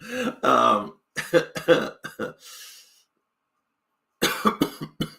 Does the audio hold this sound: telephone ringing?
no